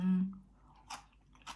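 Close chewing of steamed mixed mushrooms dipped in jaew sauce: after a brief hummed voice sound, two distinct soft crunchy bites come about half a second apart in a quiet room.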